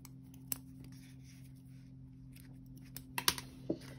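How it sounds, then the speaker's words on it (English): Scissors cut yarn for an amigurumi chicken potholder, a few faint snips and clicks near the end, quiet and close against a low steady hum. "go ahead and cut your yarn"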